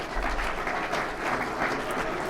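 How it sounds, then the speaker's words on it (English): Audience at an apprenticeship awards ceremony applauding a nominee, a steady dense clapping from a crowd throughout, without voices over it. "Let's have a big round of applause for Adam."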